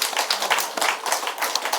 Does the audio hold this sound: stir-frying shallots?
no